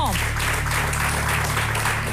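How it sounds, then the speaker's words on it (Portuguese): Studio audience on a Portuguese television talk show applauding three guests, dense clapping over a steady low hum, loud and continuous. "Um aplauso para os três"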